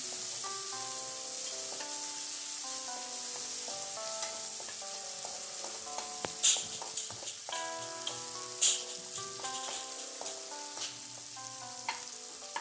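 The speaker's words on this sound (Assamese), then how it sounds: "পিঁয়াজখিনি ভালকৈ ভাজি ল'ম" Chopped onions with kalonji seeds sizzle in hot oil for a mustard fish curry, a steady close frying hiss with occasional louder spatters, while soft instrumental music plays underneath.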